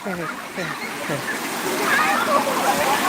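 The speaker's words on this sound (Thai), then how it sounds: "ตอนนี้น้ำกำลังเยอะขึ้นแล้วครับ น้ำไหลมาแรงแล้ว ฝนตกใหม่ ๆ" Rainwater rushing and splashing down from a cave at a Thai temple after fresh rain, a steady moderate wash of flowing water under a voice speaking, the flow swelling slightly toward the end.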